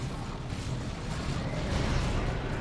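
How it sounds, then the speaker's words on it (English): Rapid, continuous heavy gunfire from a Terminator squad's assault cannon in the Dawn of War 2: Retribution strategy game, a dense rumbling barrage of shots and blasts that stays loud throughout a chaotic 3v3 battle. "You see the assault cannon of the Terminators actually suppressing them"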